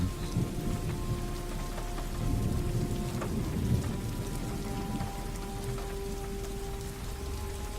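Steady soothing rain falls continuously, a dense patter with occasional distant thunder rumbles and a faint sustained musical tone beneath.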